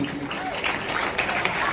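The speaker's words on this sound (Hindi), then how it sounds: "भैया ताली बहुत बढ़िया बजा रहे हैं" An audience at a comedy show during a festival breaking into steady applause, a dense wash of clapping from a crowd, fairly loud and continuous, with some talk mixed in.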